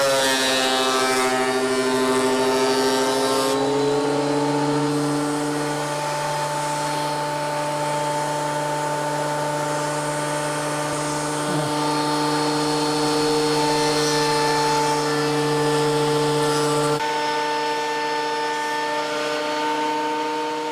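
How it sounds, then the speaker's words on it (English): Triton TPT125 15 amp planer/thicknesser with a 12.5-inch bed, planing wood: a loud, steady motor drone with strong harmonic whine running continuously, then cutting out near the end. "That's the Triton, the TPT125 15 amp thicknesser"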